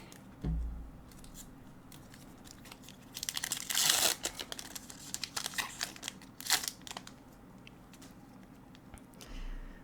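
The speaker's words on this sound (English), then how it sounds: "I'll start using the scissors to make it a little quieter." Scissors snip and crunch through the crinkly plastic wrapping of Disney Lorcana trading card packs, a string of close, crisp cuts and crackles with a loud burst in the middle, with no talking.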